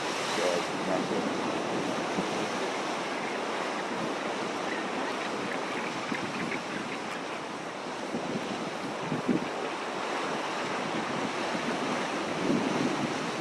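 On a Falkland Islands shore, ocean waves surge in as a loud, continuous broadband roar, mixed with heavy wind buffeting the microphone.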